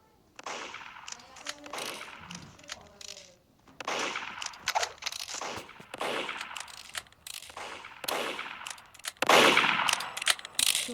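Gunfire in the Roblox game Murderers vs Sheriffs 2, with repeated sharp shots and bursts landing throughout, some clustered rapidly and the loudest near the end.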